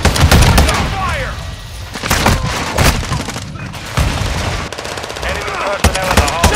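Rapid machine gun fire rattles almost continuously in Call of Duty: Modern Warfare II, loud and close, with booming thuds and radio-style voices calling out orders under the shooting.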